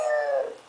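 A dog lets out a single short, loud howl at a massager, a sustained tone that slides downward and fades, with no talking over it.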